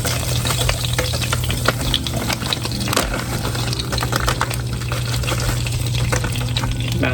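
Brown sugar sizzles in hot oil in a pot, heated before searing oxtail for stew; a steady, close frying hiss with a low hum runs unbroken throughout, with scattered crackles and no one talking.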